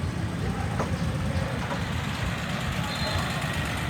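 Classic cars rolling past in a parade leaving a festival, with a steady low engine rumble and road noise that stays constant throughout, loud and close, without distinct separate knocks standing out.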